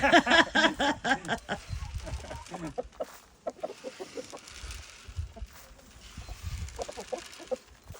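Roosters and hens cluck and squawk close by in a rural village yard, with loud, rapid repeated calls at first and then scattered clucks, mixed with people talking nearby.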